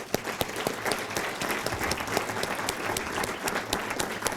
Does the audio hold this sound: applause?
yes